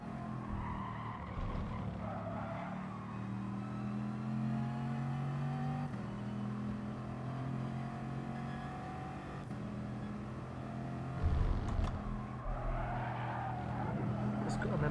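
Race cars in the GT Sport video game racing at Lago Maggiore, with steady engine drone throughout, tire squeal and a louder rev burst near the end, under ongoing commentary speech.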